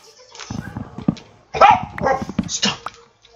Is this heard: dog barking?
yes